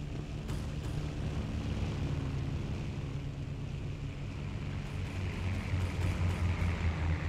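Propeller fighter planes in the World War II shooter Battlefield 1942 drone steadily overhead, a continuous low engine roar holding for the whole stretch and swelling slightly toward the end, with a few faint sharp cracks mixed in.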